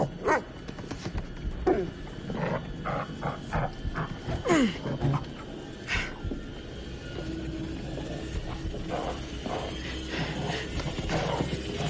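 A dog in the horror game The Devil in Me barks in short yips and lets out whimpering whines, scattered across the stretch over a low murmur of game ambience, fairly close and moderately loud.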